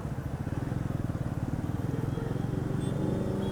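A Bajaj Pulsar NS400Z motorcycle accelerates, its exhaust opening into a loud, rapid pulsing growl that stays close and builds steadily throughout.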